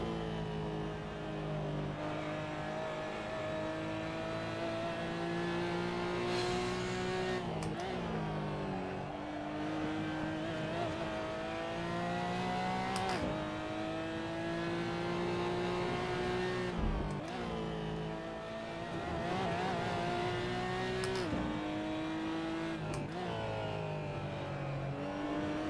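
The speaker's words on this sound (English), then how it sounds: "This is the Porsche GT4 Club Sport." Porsche GT4 Clubsport race car in a racing video game. The engine howls through repeated rising gear pulls, each broken by a brief shift or lift, over roughly half a minute of steady, moderately loud lapping with no talk.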